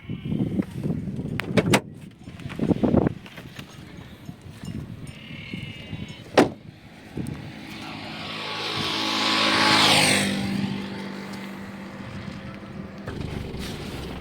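A driving-school car on the road: a few knocks and thumps early, then the engine note climbs in a swelling whine that peaks and eases off, continuing as a steady hum.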